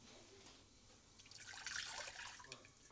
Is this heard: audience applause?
no